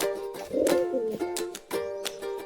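Kaldum pigeons, a pair kept in a cage, coo in low, wavering notes close by. The cooing comes in a few rounded phrases over a steady background hum, and no one speaks.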